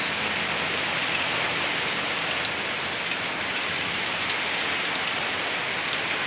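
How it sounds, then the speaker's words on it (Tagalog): Heavy rain in Baybay, Leyte pours down in a dense, steady hiss, loud and unbroken for the whole stretch with no voices. "bilang umos ang napakalakas na ulan"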